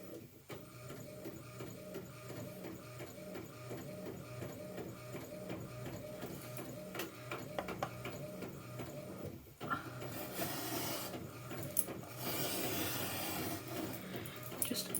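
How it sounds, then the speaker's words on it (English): A printer feeds out a page in a home art studio, running with repetitive mechanical whirring and clicking, then growing louder and busier near the end as the sheet advances. "So I've got another page printing out"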